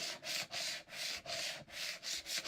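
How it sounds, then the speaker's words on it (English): A scraper held at an angle is dragged repeatedly across a raised, bumped cutting mat to flatten it, giving close, rhythmic rasping strokes about every half second with no talk. "hold this at a 45-degree angle and just scrape it off"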